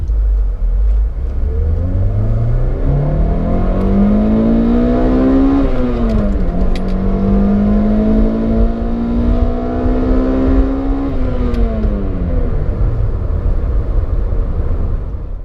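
A 2006 Toyota Corolla XRS with the 2ZZ performance four-cylinder revs up loudly and close, climbing in pitch, dipping briefly, then holding high before falling away, with no talking.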